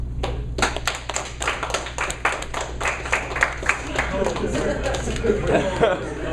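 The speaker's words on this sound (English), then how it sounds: "give a round of applause to the best actor" Scattered clapping from a small audience at a party honoring Leonardo DiCaprio, loose and uneven taps rather than a full ovation, with chatter and a few chuckles mixed in over a steady low hum.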